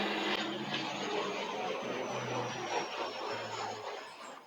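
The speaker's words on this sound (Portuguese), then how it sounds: "Calma aí que tem um avião passando." An airplane passing overhead, a steady distant roar with a faint high whine that holds for several seconds, then eases off slightly toward the end, with no talk.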